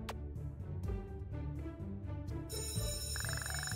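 A school bell in the Kindergarten video game rings steadily as a continuous electric trill over a busy game soundtrack, growing more prominent toward the end.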